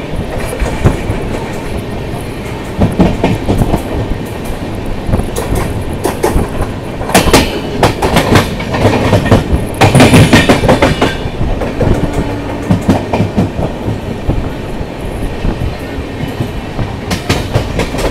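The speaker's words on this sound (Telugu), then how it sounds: "లోకల్ ట్రైన్ కూడా పోతా ఉంది చూడండి." A local train rolls past at Arakkonam junction with loud, continuous rumbling and rhythmic clickety-clack of wheels over rail joints, heard up close for a long stretch.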